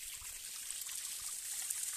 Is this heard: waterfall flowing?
yes